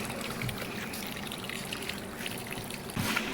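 Steady trickling water from a tap in a home, a continuous soft broadband rush with a brief louder splash near the end, no talking.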